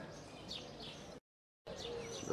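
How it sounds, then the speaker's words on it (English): Birds call and chirp around the Alcázar of Seville, mostly doves, with soft cooing and tweets over a steady outdoor hum, cut by a brief silent gap before resuming. "The place is full of birds, mostly doves."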